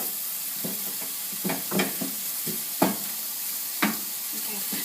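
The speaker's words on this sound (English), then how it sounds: "Add the gas on, let it cook fast. Carry on stirring" Noodles cook on high heat in a hot pan under a steady hiss of frying, broken by several distinct scraping stirs and clacks of the utensil, close with no voices.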